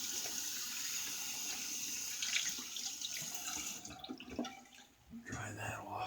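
Tap water runs and splashes as a shaving soap dish is rinsed at a sink, a steady close trickle with clinks and handling noises toward the end.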